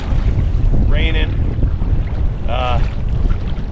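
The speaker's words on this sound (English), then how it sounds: "quite windy, pretty choppy, raining," Strong gusting wind roars across the microphone over choppy, splashing lake water on Lake Cavanaugh in the rain, with two brief higher-pitched calls cutting through the rush.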